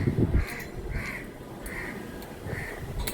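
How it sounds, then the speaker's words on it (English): Crows caw outdoors on a windy day: four or five harsh, evenly spaced calls repeat at a steady pace over a low background of wind noise. "We all love crows and birds."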